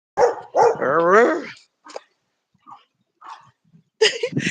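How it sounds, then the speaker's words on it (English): A small dog gives a few sharp, close barks, with one drawn-out whining yelp. Quieter faint yips follow, then another loud burst of barking at the end. "Nehemiah, did you hear the little dog?"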